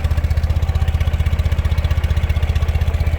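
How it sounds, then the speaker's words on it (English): Carbureted Ural engine on a 2013 Ural Patrol sidecar motorcycle idling steadily, a loud, close, low rhythmic thump with an even, old-school pulse throughout. "that engine fires right up, idling beautifully"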